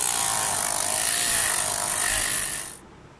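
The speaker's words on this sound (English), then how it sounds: "Now insert it in a Dremel or a drill machine and sand it to make it perfectly round." A Dremel or drill spins a small bolted part while it is sanded round, giving a steady, loud high-pitched whine with gritty abrasive hiss that runs continuously, then cuts off abruptly near the end.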